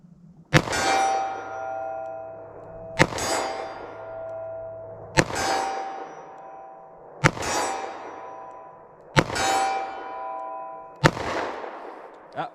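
Six sharp gunshots from compact 9mm and .38 Special handguns crack out at steady intervals of about two seconds, each loud report followed by a ringing metallic decay.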